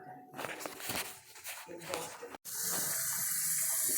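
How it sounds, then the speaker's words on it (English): Sliced mushrooms get rinsed in a strainer under a running kitchen tap, a steady splashing water stream that grows fuller and brighter partway through, with a brief break in the flow. "we're rinsing these mushrooms now"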